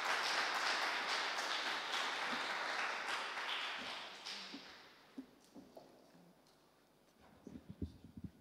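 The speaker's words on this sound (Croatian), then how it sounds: "Molim pozdravite profesoricu pljeskom." Audience applause in a symposium hall welcoming a professor to the lectern; a dense, steady round of clapping for about five seconds that then fades to a few scattered claps and faint taps.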